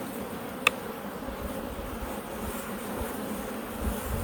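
Honeybees buzzing steadily inside an opened hive while it is being treated for mites, a continuous close droning hum with a faint brief click near the start.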